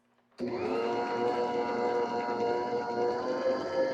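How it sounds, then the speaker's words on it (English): An electric hand mixer whirs steadily as it beats orange cake batter, starting abruptly after a brief quiet moment and then holding a loud, continuous motor drone with no talking. "We're going to mix this batter for 2 minutes, all right?"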